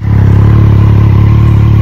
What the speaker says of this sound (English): it puts all that power through that Moto2 styled Arrow exhaust